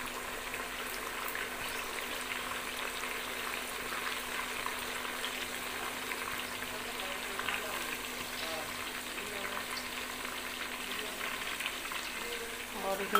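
Garlic frying in a pot of pulao base, a steady soft sizzle with a bubbling edge running evenly throughout at moderate distance, with no talk over it.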